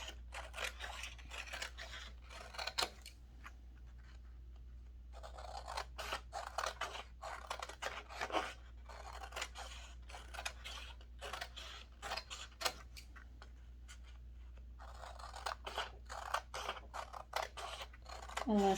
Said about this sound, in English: Unless you guys like to watch me cut paper out.